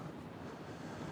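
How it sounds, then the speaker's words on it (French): Ocean surf rolling in at a golf course on the Basque coast, a steady broadband wash of waves mixed with light wind buffeting the microphone, continuous and fairly soft with no talk. "On entend bien l'océan"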